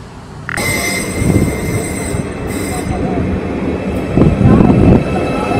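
A train pulling into a station with loud high-pitched wheel squeal, steady rumble of the rail cars underneath and squeals that come and go over several seconds.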